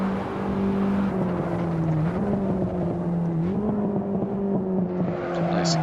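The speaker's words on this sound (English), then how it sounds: "Some nice exhaust bubbles there as we get the downshift pretty well." BMW E30 M3 in Assetto Corsa drives on track, its engine and exhaust droning loud and steady from the cockpit, pitch dipping and rising through shifts with brief burbles on the downshift.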